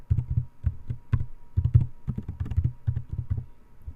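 Keys clack on a computer keyboard while someone types a line of C code, producing a quick, uneven run of close, crisp keystrokes with no speech.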